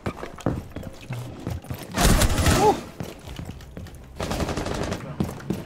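Automatic gunfire in the tactical shooter Rainbow Six Siege, with close, loud bursts and scattered single shots, including a heavy burst around the middle and another near the end.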